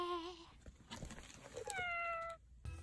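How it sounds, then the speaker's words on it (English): A cat meows from inside a box in a minivan being converted for travel, giving two drawn-out, rising-then-falling meows close up, separated by soft rustling and a brief muffled thump. "It's my cat in a box"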